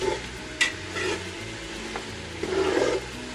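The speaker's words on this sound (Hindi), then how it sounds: "तो अब हम तकरीबन 7 या 8 मिनट के लिए मटन को अच्छी तरह से मसाले के अंदर भूनेंगे।" Mutton frying in spices in a home kitchen pot for pulao, with soft sizzling and a few scraping stirs of a spoon against the pan, fairly quiet and without talk.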